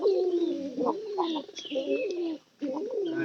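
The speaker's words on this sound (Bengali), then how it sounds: "পায়রা ভালো হয়েছে না।" Pigeons coo close by, with several rolling, throaty calls overlapping in short bursts and a brief gap near the end. Faint background noise sits beneath them.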